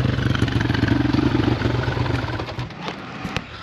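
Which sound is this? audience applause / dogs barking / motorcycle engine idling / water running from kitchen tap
motorcycle engine idling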